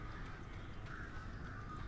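Crows caw faintly in the dark woods of the video game Alan Wake, hoarse calls blending into a low ambient rumble over a short stretch.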